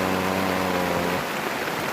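Heavy rain pours steadily on a tent at the Anawangin Cove campsite at night, a dense, unbroken hiss close by with no voices.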